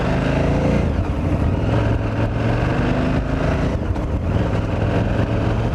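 A vehicle riding just after a new clutch was fitted, a loud steady engine drone with wind rush and shifting tones, continuous and close without speech.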